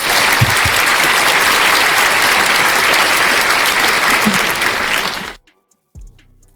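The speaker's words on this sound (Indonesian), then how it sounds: "Tepuk tangan, apologet Islam." Loud, dense applause from an audience at a heated Islamic–Christian apologetics debate, sustained for about five seconds before cutting off abruptly into near silence.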